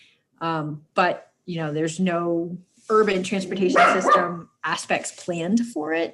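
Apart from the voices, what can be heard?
dog barking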